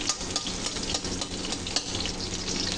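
Garlic fries in hot oil in a pan with a steady, dense sizzle that stays loud and even the whole time. Faint stirring taps sound through it, and no voice is heard.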